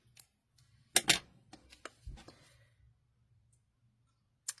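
Cardstock for a Stampin' Up card is snipped and handled in a quiet room. A few sharp clicks and crisp cuts come in a cluster near the start, followed by softer rustles and a final click after a pause.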